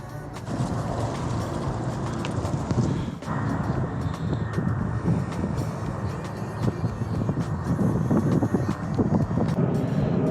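Strong wind buffets the microphone with a constant low roar and rumbling gusts, loud and unbroken from start to finish.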